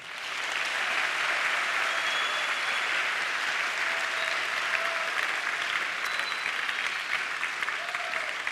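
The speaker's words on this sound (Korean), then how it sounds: "자, 이것이 믿어지면 주님께 박수 한번 하십시오" A church congregation at an evening summer camp service breaks into long, sustained applause, a steady wash of many hands clapping with faint voices and shouts mixed in.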